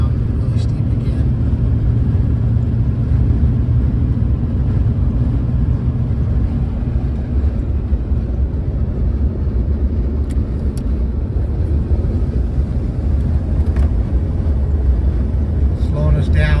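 A pickup truck towing a rocking trailer down a steep grade with its exhaust brake engaged, giving a loud, steady low engine drone that holds without letting up.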